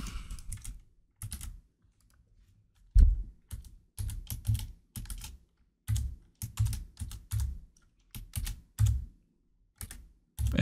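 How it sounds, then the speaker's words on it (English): A password being typed on a computer keyboard while logging in as root on a server: brisk bursts of clicky keystrokes separated by short pauses, close and clear with no talking. "I'm going to log in as root and type my password in"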